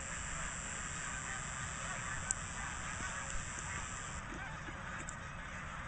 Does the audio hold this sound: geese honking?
yes